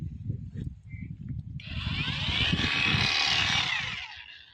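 A fodder cutting machine runs up to a loud, rising whine and roar that holds for a couple of seconds before easing off, with a low rumbling underneath.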